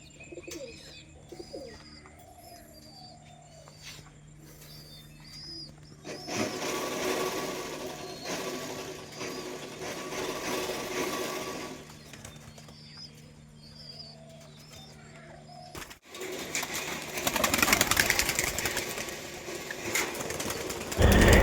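Rajshahi pigeons in a new loft give low, repeated cooing throughout, joined by chirps and a rattling mechanical whir that swells in the middle and louder toward the end, with no talk.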